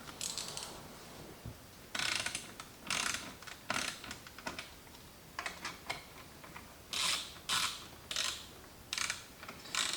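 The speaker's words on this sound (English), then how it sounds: "Remember, we are screwing into plastic, so you just need to have it snug." Screws being driven into plastic trim on a 2013-2018 Lexus IS/RC during a rotary knob conversion install, heard as repeated bursts of dry ratcheting clicks with short pauses between them, fairly close and with no talking.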